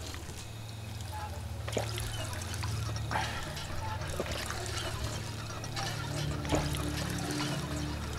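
Water pouring and trickling in a Fallout 4 survival mode game as the character drinks, a steady liquid stream with a few drips and gurgles over a constant low hum.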